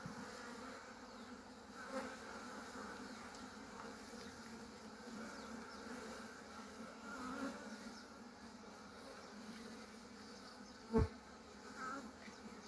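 Bees buzzing steadily around an open hive during a beekeeper's inspection of brood and honey frames in Nigeria, a soft continuous drone with a brief sharp knock near the end.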